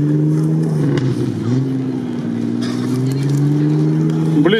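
A Niva off-road car, an off-road racing build, revs hard with a burning, spinning wheel, its engine holding a loud wavering drone that dips and climbs again, with a sharp flare at the end and a voice briefly underneath.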